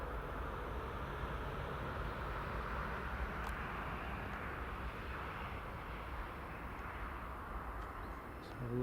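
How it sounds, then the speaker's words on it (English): A Boeing 737-800 climbs away from runway 25 at Newcastle International Airport, its engines a steady, broad jet roar that holds at an even, fairly distant level throughout. "That's the 738 up and away."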